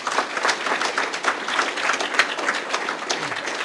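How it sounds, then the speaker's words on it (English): Sustained applause from an audience at a Monster Mash event in Boston, a dense steady wash of many hands clapping at moderate volume with no talk over it. "one more round of applause, please"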